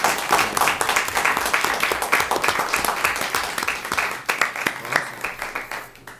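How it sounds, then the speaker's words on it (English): Applause from a small group at a town selectmen's meeting: a steady, dense patter of hand claps at moderate distance that carries on for several seconds, then thins out and fades. "And then we get to give applause, yes."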